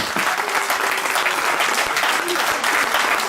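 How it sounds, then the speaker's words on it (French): An outdoor country music festival crowd applauds the volunteers, sustained dense clapping from many hands, loud and steady, with faint voices mixed in. "je vais vous demander d'applaudir tous les bénévoles"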